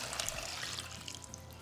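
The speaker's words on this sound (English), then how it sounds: "But now we're just going to cover them with water" Water is poured into a pot over dried chile pods, including chile de árbol, making a brief, soft trickling splash at low volume.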